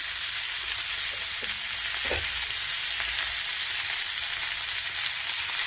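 Food frying lightly in a pan, a steady bright sizzle throughout with a couple of soft stirring knocks, close and continuous with no talking.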